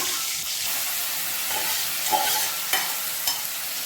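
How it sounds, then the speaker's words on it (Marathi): Mustard seeds and curry leaves crackle in hot oil for a raw tomato chutney, producing a dense, close hiss with a few sharper pops scattered through. "मोहरी छान कडली की त्यामध्ये टाकायचं आहे आपल्याला कडपत्ता"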